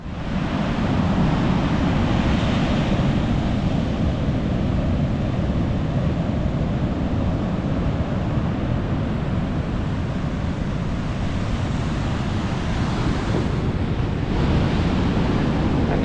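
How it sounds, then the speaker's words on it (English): Ocean surf roaring steadily at a small Outer Banks campsite on the North Carolina coast, a continuous broadband wash of breaking waves with wind buffeting the microphone, loud and unbroken throughout with no voices. "sit out here and listen to the roar of the ocean all day long."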